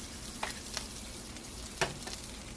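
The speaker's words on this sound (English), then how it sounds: "Crack these mama babies open. Let them fall right in the butter." Eggs frying in butter in a skillet give a quiet steady sizzle, with a few soft pops and crackles breaking through.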